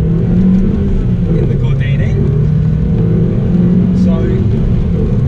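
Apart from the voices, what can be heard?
Renault Sport Twingo Gordini 1.6 naturally aspirated engine revving on road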